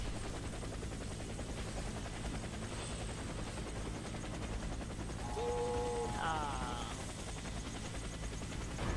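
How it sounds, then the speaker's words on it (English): Helicopter in the Warface video game, its rotor a continuous loud thrum under battle noise, with scattered gunfire and brief tonal game cues midway. "Helicopter is inbound."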